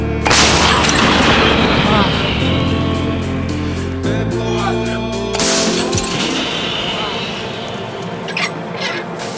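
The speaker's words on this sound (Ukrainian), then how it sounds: "Гармата!" Heavy booming blasts of artillery fire roll out during fighting in Ukraine's Sumy region, two large reports several seconds apart, each followed by a long rumbling echo and sustained noise.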